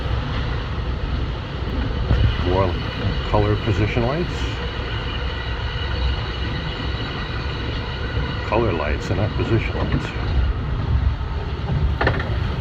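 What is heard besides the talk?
LIRR M3 train running past Woodside Station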